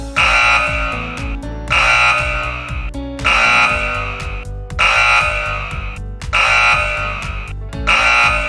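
Gas leak detection alarm in a chemical process and storage area sounds loud, repeating electronic buzzing pulses, each burst about a second long with short gaps, over a steady low hum.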